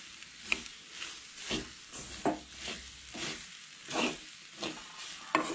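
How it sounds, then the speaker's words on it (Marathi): Soybeans coated in turmeric stirred and sautéed in a pan for a Goan festive veg lunch, with repeated rhythmic scraping strokes over a steady low sizzle, close and moderately loud, no talking. "सो ती बरी म्हणटा तशी अशी परतून घेयात"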